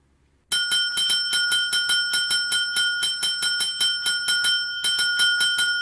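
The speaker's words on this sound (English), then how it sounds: "Take that goddamn bell away from him." A small hand bell in a Breaking Bad scene rings in a rapid, insistent series of bright metallic dings that continues steadily for several seconds, loud and close with no talking.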